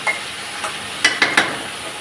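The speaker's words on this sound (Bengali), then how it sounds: "আমি একটু ভালোভাবে নেড়ে নিচ্ছি। এইভাবে পটল ভাজি অনেক টেস্ট হয়।" Pointed gourd (potol) sizzles softly in a frying pan while being stirred, with a few sharp scraping strokes of the spatula against the pan near the middle of a steady frying hiss.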